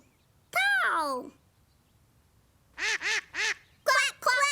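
A toy duck quacks loudly and nearby: one long drawn-out quack, then a quick run of three short quacks and two more after a pause, all against near silence.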